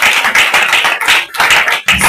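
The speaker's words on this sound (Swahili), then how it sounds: "Mpige Bwana makofi." Church audience clapping in praise, a dense, steady wash of many hands with brief dips, close and fairly loud with no talking.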